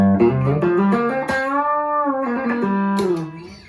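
Distorted notes from a Xaviere XV-560 electric guitar ring out with long sustain and a reverberant tail, a few picked phrases bending and fading between attacks.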